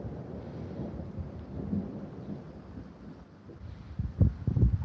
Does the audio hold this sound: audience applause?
no